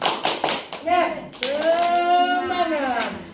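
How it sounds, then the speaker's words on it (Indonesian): Mothers at a community health session join in a short rhythmic clapping chant, a few quick claps followed by a sustained group shout, with voices over the claps. "Kita terakhir untuk semangat, tepuk semangat."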